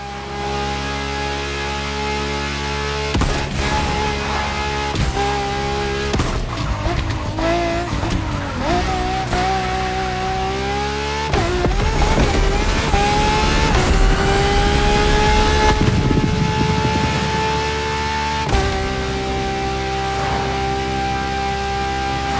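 A luxury prototype car in The Crew Motorfest drives and skids, its engine holding a steady tone that rises and dips as tires squeal through several slides, loud and close over game music with no talking.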